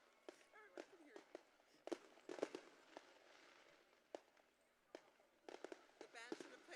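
Fireworks burst at an outdoor high school graduation ceremony: scattered faint pops and crackles in quick clusters, distant, with a crowd murmuring and talking nearby.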